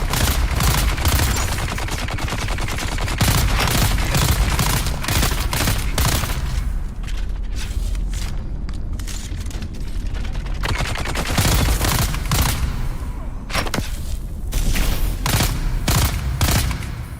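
Gunfire erupts in Dune Awakening, dense rapid volleys of shots cracking close and loud in long bursts, easing into a short lull mid-way before the shooting picks up again.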